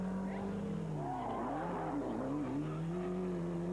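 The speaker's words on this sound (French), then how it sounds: "Et Droogmans qui allume encore ses pneus." A rally car at the 1993 Ypres 24 Hours Rally spins its tyres, a sustained engine roar with squealing, wavering pitch that rises and falls continuously throughout, loud and close with no talk.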